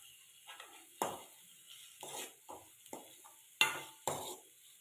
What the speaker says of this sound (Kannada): ಇದು ಪಡ್ಡ ಮೇಲ್ಗಡೆ ಹಾಕೋಕ್ಕೆ ಒಗ್ಗರಣೆ